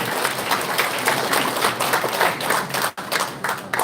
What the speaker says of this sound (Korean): 힘찬 박수를 모아주시기 바랍니다.